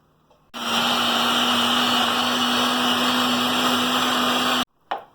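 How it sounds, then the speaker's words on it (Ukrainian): An electric meat grinder mincing onion, garlic and bread for fish cutlets starts abruptly and runs as a loud steady motor whine with a strong hum for about four seconds, then cuts off, followed by a brief clatter. "включаємо нашу м'ясорубочку"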